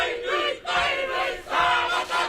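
Māori Party supporters lining a hallway cheer and shout in loud waves as Rawiri Waititi arrives on election night, the roar of the crowd rising and falling close by.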